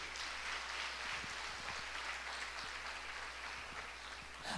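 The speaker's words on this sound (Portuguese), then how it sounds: "Então dá uma salva de palmas para o Senhor." Church congregation applauding in praise during a Portuguese-language worship service, a steady broadband wash of many hands clapping throughout, fairly distant and even in level with no talk over it.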